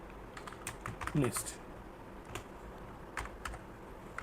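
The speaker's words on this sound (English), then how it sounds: "I will type H2 ordered" Keys clack on a computer keyboard while HTML code is entered, scattered quiet taps under low, soft speech.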